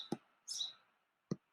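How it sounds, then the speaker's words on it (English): Birds outside chirping faintly in the distance: a couple of short sharp chips and one brief rising call, sparse and well apart, with quiet between them. "You hear the birds chirping?"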